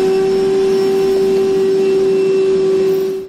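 A vacuum cleaner picks up drilling debris from the roof of a 2014 Honda Odyssey during a roof rack install, giving a loud, steady, close motor whine with a constant high tone and no talking.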